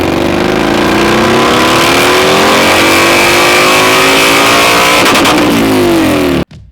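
A tuned Harley-Davidson motorcycle engine with doubled horsepower revs loudly and accelerates close by, pitch climbing steadily for about six seconds before cutting off abruptly.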